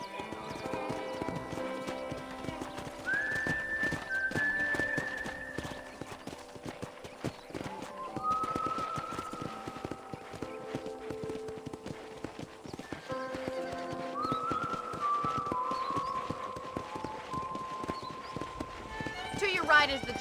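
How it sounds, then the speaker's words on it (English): Hoofbeats of a horse on a ranch in the Western video game Red Dead Redemption, with steady clip-clop under game music and talk and a few whinnies. "I picked out a fine horse for you."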